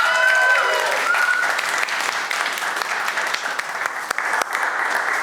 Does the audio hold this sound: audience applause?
yes